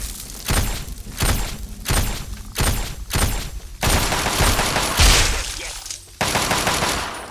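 Rapid bursts of gunfire against Mirelurks in Fallout 3 come in loud, evenly spaced volleys, each a rattling cluster of shots, then a longer sustained burst with a sharp crack near the end.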